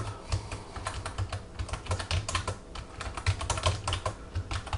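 Fingers type steadily on a computer keyboard in quick, uneven bursts of close clicking, with short pauses between runs of keystrokes and no talking.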